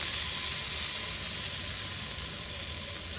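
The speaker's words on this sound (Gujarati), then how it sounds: "આપણે બટર લઈ લઈએ અને એમાં આપણે આ જે ડ્રાય ચટણી બનાવી છે વડાપાઉની એ નાખીશું" Dry vada pav chutney frying in butter in a pan, a steady close hiss and sizzle that stays even and continuous throughout, with no voices.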